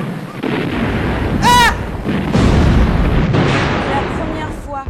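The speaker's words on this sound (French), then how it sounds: "un bruit sourd, lourd, une explosion" Heavy, dull explosions in Damascus, several deep booms and thuds close together, with a loud rising cry cutting in partway and another voice at the end.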